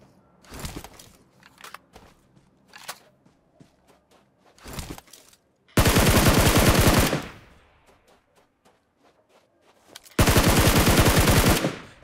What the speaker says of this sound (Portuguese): Tomei tiro de outro lado.